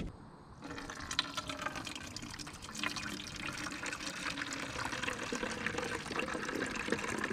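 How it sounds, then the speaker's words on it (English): Liquid micronutrient fertilizer pouring and trickling steadily into bottles, a continuous splashing fill sound that stays close and fairly even throughout. "Now let's start filling up our bottles."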